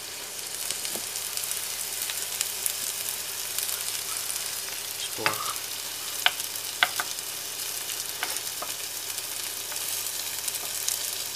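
Ground meat and onions fry steadily in a pan for a shepherd's pie, giving a constant close sizzle with a few scattered clicks and scrapes of stirring.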